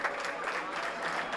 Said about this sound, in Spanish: Envuelto en aplausos.